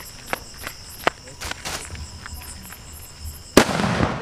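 Sivakasi AK-47 firecracker going off in a quick string of sharp pops, ending in a louder, broader burst near the end, with steady insect chirping throughout.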